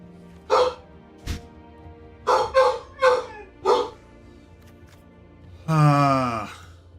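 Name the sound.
dog barking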